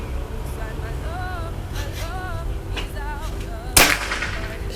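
A single sharp, fairly loud shot from a PCP air rifle snaps out near the end, heard over steady background noise with faint tonal chirps earlier.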